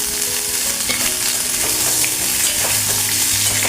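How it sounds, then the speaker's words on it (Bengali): Mango pieces fry in oil with bay leaf and five-spice tempering, a loud dense sizzle close by with occasional scraping taps as they are stirred around the pan. "আমগুলো একটু তেলে নাড়াচাড়া করে নেব"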